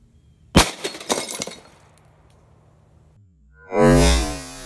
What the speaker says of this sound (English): Let's go ahead and shoot it and see if the bullet will go through.